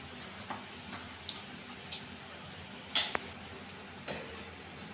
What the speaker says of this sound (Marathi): अशाच पद्धतीने आपल्याला सगळे आलू पकोडे तळून घ्यायचे आहे।